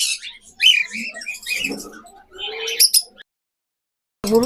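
Pet lovebirds kept as a breeding pair chirp and twitter in quick, overlapping bursts for about three seconds, close and fairly loud, then fall silent before a last sharp call.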